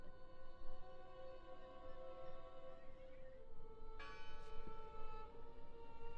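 A single bell strike in the video game Draugen leaves a long, sustained, shimmering ring of layered tones that fades slowly, heard alone with no voices.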